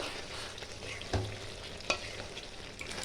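Chicken bhuna frying in oil in a pan, a low steady sizzle with two brief stirring scrapes, fairly quiet and without speech.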